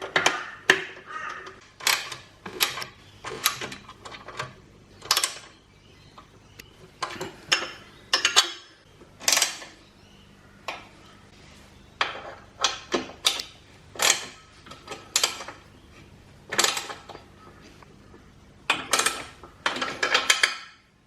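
Bolts on a Yamaha Tenere 700 bash plate being tightened with a 13mm nut and a 5mm Allen key, producing close, sharp metallic ratcheting clicks and tool clinks in irregular bursts throughout, with no speech.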